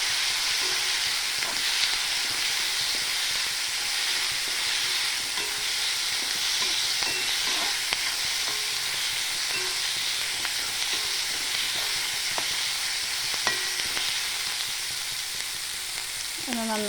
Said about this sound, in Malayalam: ഇച്ചിരി ഉപ്പിട്ട് കൊടുക്കാം സവോള വഴറ്റുമ്പം.